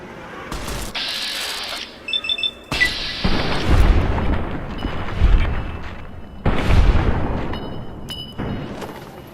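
Explosive weapon fire aimed at the floor in Fallout: Tale of Two Wastelands, with several heavy booming blasts in sequence, each trailing into rumbling debris, mixed with mechanical ratcheting and reload clicks between shots.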